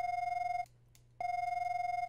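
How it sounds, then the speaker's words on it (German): A mobile phone rings inside a video game as a clean electronic ringtone tone that holds, breaks for half a second, then resumes, fairly quiet and alone without talk. "Mein Handy klingelt."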